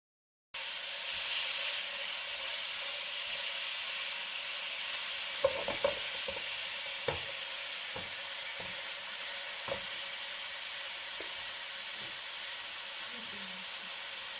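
Small chicken cubes frying in a pan for Pakistani-style Mario pasta give a steady, even sizzle, with occasional soft clinks and scrapes of stirring and no talking.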